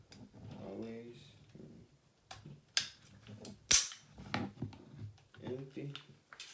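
A handgun dry fires with two sharp, close metallic clicks a second apart, set among a man's speech.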